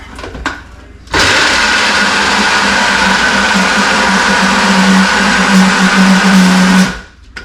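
A blender switches on abruptly and runs at a steady, loud whir for about six seconds before cutting off, with brief clatter beforehand.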